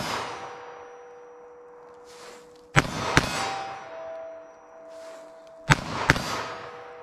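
.22 Magnum revolver shots ringing off steel targets outdoors: two pairs of sharp cracks, each shot followed closely by a metallic clang, with a ringing steel tone lingering between the volleys.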